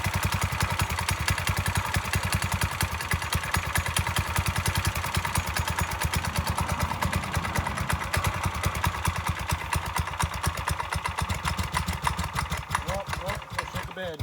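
Predator small engine on a street legal dirt bike idling, a steady rapid close-up putter with fast even firing pulses and mechanical clatter throughout, rhythm shifting slightly near the end.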